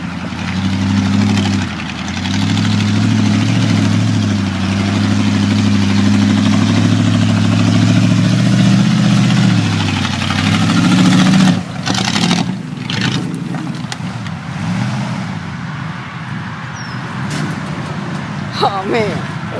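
A 1986 Chevy K10 truck's engine thrums with a deep, sustained drone on a hill climb, then revs and drops off partway through amid clunks and rattles, with voices heard over the later part.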